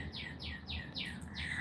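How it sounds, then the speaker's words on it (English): Small birds chirping outdoors in a quick run of about five bright, repeated descending tweets, close and clear over a quiet background. "Y'all hear the birds chirping?"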